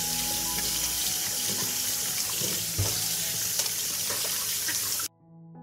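Tap water runs steadily into a sink as fresh tomatoes are washed beneath it, a loud continuous splashing rush with small knocks of fruit being handled, cutting off abruptly near the end.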